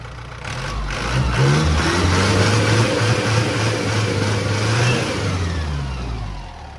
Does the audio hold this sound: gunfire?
no